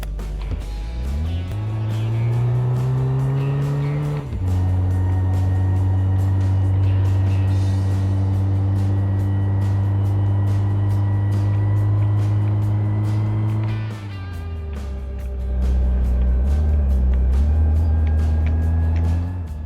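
A car's engine drones steadily on a long drive in the My Garage game, holding a smooth, loud tone that shifts pitch twice as it changes gear.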